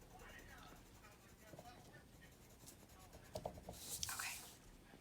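A pencil shades on paper while drawing an op art hand: soft scratchy strokes that grow firmer and brighter as pressure increases, close and quiet, with a low whispered voice over them.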